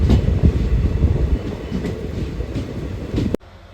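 A passenger train on the Mysuru to Talaguppa line rolls into Humsi railway station with loud, close rumbling and wheel clatter that slowly eases, then cuts off abruptly near the end.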